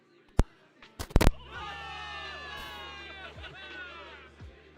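Crowd cheering for victory in the video game Zenless Zone Zero, a sustained roar of many voices rising after a few sharp slams and bangs and holding steady to the end.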